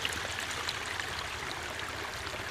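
A small stream flowing along a ditch in a British Columbia yard in January gives a steady, close rushing trickle that holds an even level from start to finish, with no voices.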